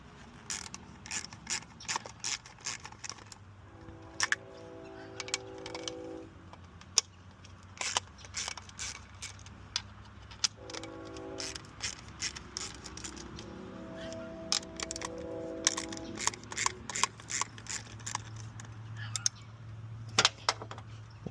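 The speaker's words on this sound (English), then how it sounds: "I've removed all the bolts, and I removed this" Bolts being removed from the air intake of a Nissan Stagea, with rapid ratchet clicking in repeated bursts, metallic clinks and small parts handled close by, fairly quiet overall with short pauses between runs.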